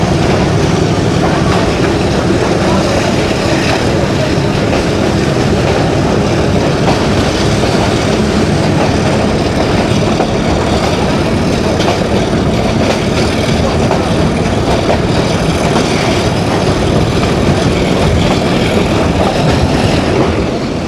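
Kohat Express running from Rawalpindi toward Kohat, passing through Langar railway station at speed: a loud, continuous rumble and rattle of the train rolling along the track, heard steadily from on board with no breaks.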